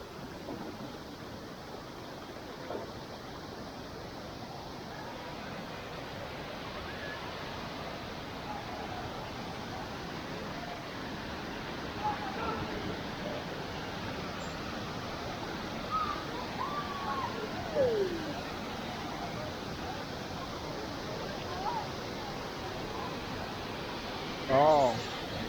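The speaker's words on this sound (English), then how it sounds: "How's the waterfalls?" A waterfall in Siquijor, Philippines, a constant broadband rush of falling water running steadily throughout, with faint voices now and then underneath.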